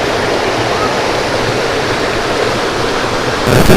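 Wang Takhrai waterfall pouring steadily, a loud, continuous broadband rush of flowing water that fills the whole clip and surges slightly louder near the end, with no voices.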